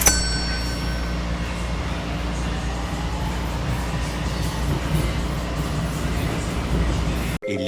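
A Miami Metrorail train rumbles steadily from inside a carriage approaching Dadeland South, with a constant low hum and a faint ding, then a brief cutoff near the end.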